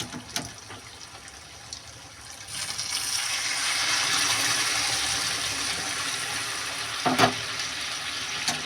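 Hot water poured into a pan of frying marinated duck meat gives a rising hiss and sizzle that swells and holds, with a couple of sharp clinks near the end.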